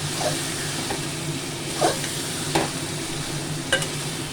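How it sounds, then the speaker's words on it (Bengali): Young jackfruit is stir-fried with ginger-garlic paste in a pan, giving a steady, close sizzle. A few louder scraping strokes from stirring stand out above the frying, and no one talks. "এবার দিলাম একটু আদা রসুনের পেস্ট ভালো করে কষাবো"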